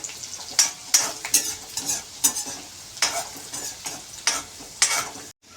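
Chillies frying in a pan, a steady sizzle broken by repeated sharp scrapes and clinks of a spoon stirring against the pan in an uneven rhythm, cutting off abruptly at the end.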